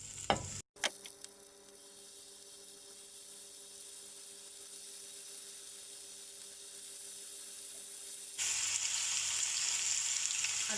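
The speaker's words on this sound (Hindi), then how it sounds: "ये फ्राई पैन गरम हो गया है, तो अब इसमें पनीर का ये स्टिक रखेंगे" Paneer tikka sticks go into a hot frying pan and sear. A bump of placement comes first, then a steady sizzle that grows louder and brighter toward the end, with no talk.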